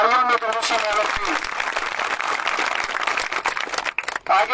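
A crowd applauds steadily for several seconds, dense continuous clapping, with a voice speaking over the start and end.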